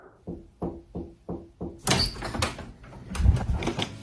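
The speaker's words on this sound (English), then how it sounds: "what I caught was the knocking on the door kept knocking even after he opened it" Knocking on a door in a staged ghost recording: six evenly spaced, fairly loud knocks, followed by a busier stretch of clattering and rustling noise.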